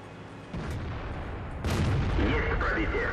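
A tank cannon fires in the World of Tanks game, a T-54 First Prototype engaging a Ferdinand, heard as a booming shot with a rumbling tail amid dense battle noise.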